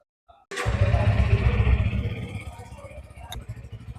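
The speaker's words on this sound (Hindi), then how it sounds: "आइडल में कुछ इस तरह से साउंड करेगी मोटरसाइकिल" A Bajaj Pulsar N160 motorcycle engine starts and settles into a steady, throbbing idle, its deep pulsing exhaust close by and loud, with a brief click near the end.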